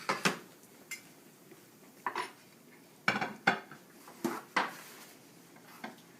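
Breaded steak being plated alongside mashed potatoes brings a series of close clattering dish and cutlery knocks, irregular clinks and scrapes scattered across a quiet kitchen with no talking.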